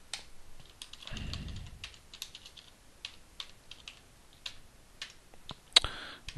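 Keystrokes on a computer keyboard fill a voter registration form online, coming as irregular clusters of close, light clicks with short pauses, plus one sharper tap near the end and no talking.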